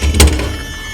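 An emergency door on a school bus swings and latches open during a pre-trip inspection, giving a loud, close thump with a brief metallic clack near the start, then fading to quiet ambience.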